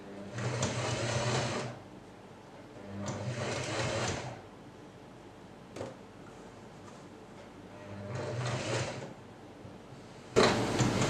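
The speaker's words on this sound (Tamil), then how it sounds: "நம்ம வந்து இப்போ பைப்பிங்கை வச்சு ஸ்டிச் பண்ண போகிறோம்." Sewing machine stitching piping onto a churidar neckline, running in three separate bursts of steady whirring with quiet pauses between them and a sharp knock near the end.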